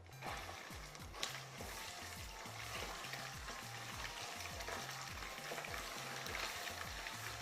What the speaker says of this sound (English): We'll fry it so that it will break very well.